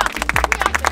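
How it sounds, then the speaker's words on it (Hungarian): An audience applauds at Németh Bálint's first fan meet-and-greet, heard as a brief burst of quick, rhythmic clapping up close. "Egyetlen egy hatalmas tapsot szeretnék kérni"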